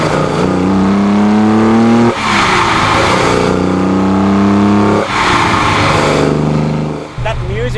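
A 1972 Holden XU1 Torana race car with carburetors revs hard in three rising pulls, each climbing in pitch before dropping back, loud and close with the engine dominating throughout.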